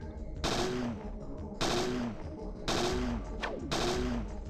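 Gunfire in the video game Parasite Eve 2: four sharp game gunshots at roughly one-second intervals, each followed by a brief ringing tail over a steady background.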